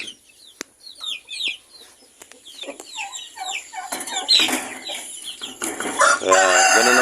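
Kabir and Rhode Island Red chickens in a breeding pen cluck in quick, scattered bursts, building into louder, denser calling with a crow near the end, close by and without talk.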